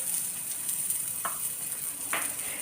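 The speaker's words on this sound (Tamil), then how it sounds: "நம்ம இந்த பன் போடுறதுக்கு முன்னாடி கீழே வந்து கொஞ்சம் பட்டர் கட்டாயம் போடணும்." A Madurai-style butter bun sizzles steadily in melted butter on a pan over low heat. A close, continuous hiss is broken by a couple of brief scraping stirs.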